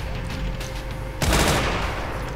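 Gunfire from a weapon in the shooter game Brutal Doom, a sudden loud burst of rapid shots erupting about halfway through and continuing over steady game background noise.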